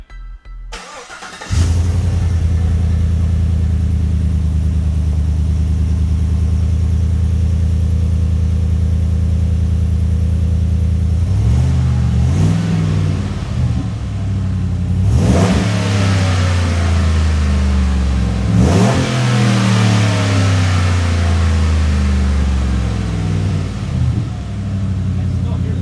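V8 Chevrolet Colorado with a quiet titanium exhaust starts up, settles into a loud rumbling idle, then gets three sharp revs that rise and fall back, close to the pipes with no talking.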